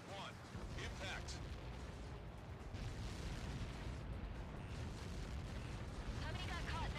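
A huge blast from a missile strike in the Ace Combat 7 flight game, a continuous loud rumbling roar with crackling debris that persists across the whole stretch, with faint radio-style voices underneath.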